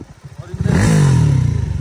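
A motorcycle engine revs loudly and close by at a rocky riverside swimming spot, its pitch climbing into a sustained, throaty roar after a brief sputter.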